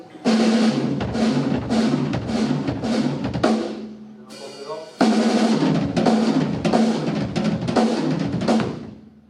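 Instrument played with a closed technique: a steady run of quick, evenly spaced strokes, briefly pausing before resuming at the same pace, loud and close.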